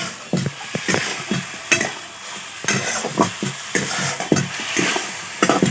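Ground spice paste for chicken curry sizzles in a hot pan while a spoon stirs and scrapes it in quick, uneven strokes, close and fairly loud, with a faint clink of the pot.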